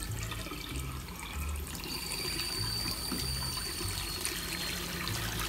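Water runs steadily from a hotel room tap in Tokyo, a continuous hiss and splash close by with no talk over it.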